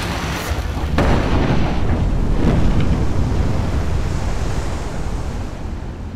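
Underwater naval mine detonated at sea during a mine-clearance operation, heard as a deep, rumbling boom that swells into a long roar of water and wind before slowly fading.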